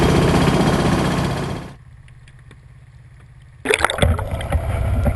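A sailing boat moves through water off Greenland, heading into Upper Nubnik, with loud broadband rushing of wind and water that drops to a quieter low hum for a couple of seconds before surging back.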